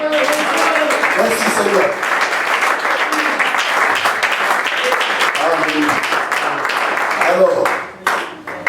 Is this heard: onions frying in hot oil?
no